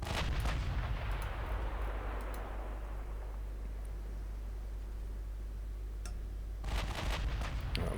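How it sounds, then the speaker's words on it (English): Naval gunfire from warship batteries in the Ultimate Admiral Dreadnoughts game: a heavy booming salvo opens, rumbles and decays for several seconds, then a second burst of shots hits near the end, with no talking. "Just gonna have the Marquesa firing at the battleship."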